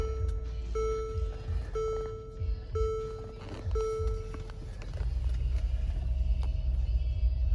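A 2017 Mercedes GLS AMG 63 sits with repeated electronic warning chimes sounding before its engine catches and settles into a steady, deep rumbling idle up close.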